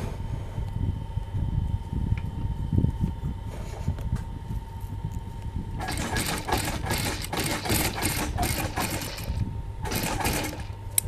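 A sewing machine stitches a buttonhole in fabric, a soft mechanical running hum joined midway by a louder, rapid stitching chatter that continues to the end.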